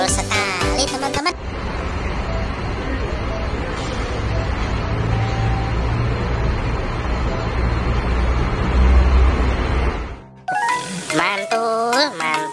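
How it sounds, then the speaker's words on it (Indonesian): A yellow Transjakarta city bus rolls past in steady, loud roadway noise with horn toots, and a voice talks briefly before and after it goes by. "bus Transjakarta"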